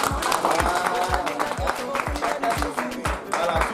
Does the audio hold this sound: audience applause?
yes